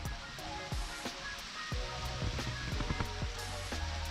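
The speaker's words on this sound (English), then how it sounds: "today it's already raining" Rain falling steadily outdoors on a wet day, a broad continuous wash of patter with scattered heavier drips and splashes close by, no voices.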